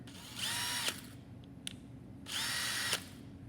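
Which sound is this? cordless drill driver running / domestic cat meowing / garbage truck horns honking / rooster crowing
cordless drill driver running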